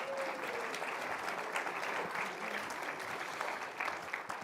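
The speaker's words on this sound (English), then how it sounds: "Dale Alquist deserves another clap." An audience claps at a talk on Chesterton and Saint Francis, a steady even wash of many hands, fairly quiet and distant, with no speech over it.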